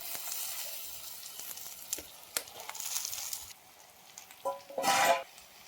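Chopped vegetables with green chillies hit a hot pan and sizzle with a crackling hiss that fades to a lower sputter, with scattered stirring clatters and a brief bright metallic scrape toward the end.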